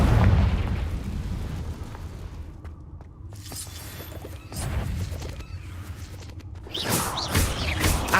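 Confringo explosion spells go off in Hogwarts Legacy, with loud booming, shattering bursts, one at the start and more near the end, separated by quieter crackling and debris.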